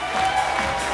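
A KVN comedy contest audience gives a loud, sustained round of applause as the competing teams are called onstage, the clapping dense and even with a slight swell midway.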